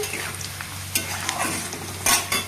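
Onion frying in oil and being stirred, a continuous close sizzle with several sharp spatula scrapes and clinks against the pan, no talking.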